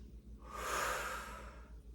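A single slow, close breath during a seated chair workout, a soft airy exhale that rises and fades over about a second against a quiet low hum.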